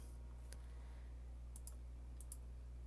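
A computer mouse clicking a handful of times, crisp small ticks, one single and two quick double clicks, faint over a steady low electrical hum.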